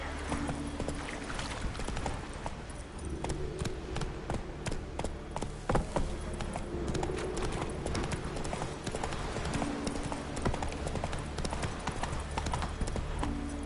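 A horse gallops in The Witcher 3 with rapid, continuous clip-clop hoofbeats, loud and close, driving steadily throughout with a faint game ambience underneath.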